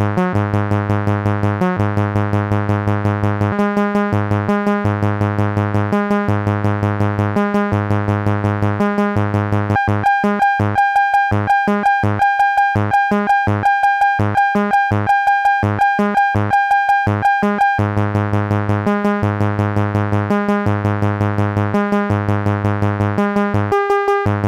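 Synthesized melodic sequence from a BMC104 parallel melody module, steady repeating plucky tones with bright harmonics, a denser rhythmic stretch in the middle, playing alone throughout at a moderate, even level.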